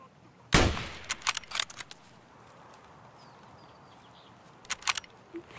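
Gunfire in the shooter game Escape From Tarkov: one loud, sharp shot, then a scattered run of quieter shots, and a few more cracks near the end, with no talking.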